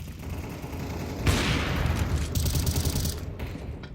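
Gunfire in Counter-Strike during a professional match on the Train map, a dense rattle of rapid shots and bursts that swells loudly after the first second and continues steadily to the end.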